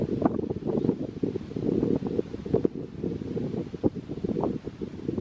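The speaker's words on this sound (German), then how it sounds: "Hier geht ein bisschen Wind, da ist es gleich angenehmer" Outdoor wind blowing steadily across a microphone while walking to pick dandelions, a continuous rough rumble with gusty surges and rustling, fairly close and moderately loud, no talking.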